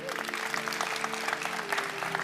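An audience breaks into steady applause, a dense patter of many hands clapping at moderate volume, with a faint voice beneath it.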